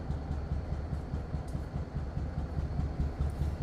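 BNSF locomotive 1776 and its train rolling past at Spencer, a steady broadband rumble with low drone throughout, fairly distant and even, no talk.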